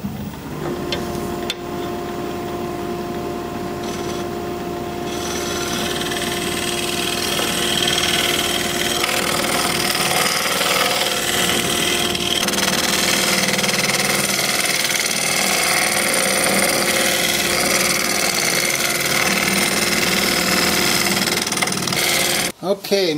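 Wood being scraped on a woodturning lathe, a steady loud grinding drone from the spinning piece that carries on throughout with little change.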